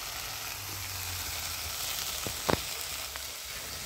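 Spice paste with chilli powder, turmeric and salt frying in oil in a wok, giving a continuous close sizzle with a couple of sharp utensil clacks near the middle.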